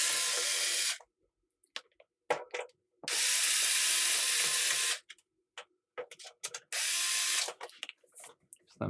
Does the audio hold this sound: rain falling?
no